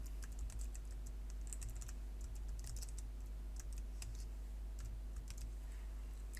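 Computer keyboard typing: quick, irregular runs of soft key clicks at close range over a steady low electrical hum, with no voices.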